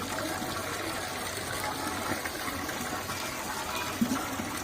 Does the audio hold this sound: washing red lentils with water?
yes